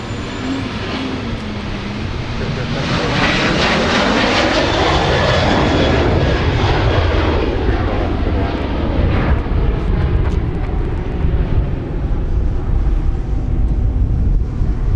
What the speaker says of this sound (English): American Airlines now departing to Dallas.